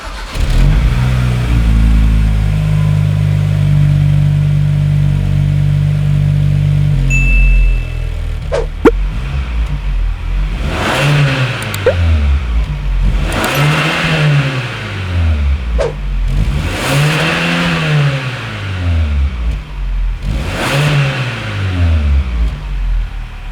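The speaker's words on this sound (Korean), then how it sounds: "배기음 한번 듣고 가시죠." A Hyundai Sonata N Line with quad mufflers idles with a deep rumble, then revs sharply several times in a row, each blip swelling and falling back, loud and close to the exhaust.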